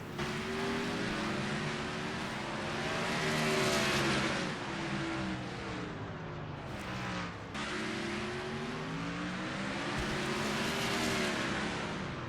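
Race cars roaring around the short track at the L.A. Coliseum, with engines droning and shifting pitch as several cars pass close by in a continuous loud pack, no talk.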